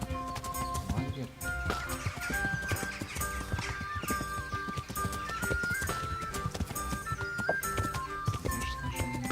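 Horse hooves clip-clop steadily through a medieval role-playing game, Kingdom Come: Deliverance, set against a dense, continuous backdrop of game music and ambience, with a horse whinnying somewhere in the mix.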